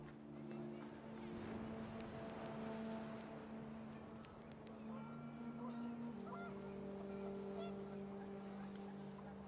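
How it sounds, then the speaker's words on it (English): Panicked geese honk in What Remains of Edith Finch, a burst of calls over windy game ambience with a steady low drone and a narrator's voice present. "The wind picked up, and panicked geese appeared and quickly went."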